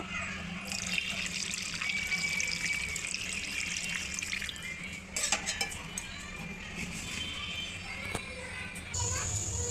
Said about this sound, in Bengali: পানিটা দিয়ে নিব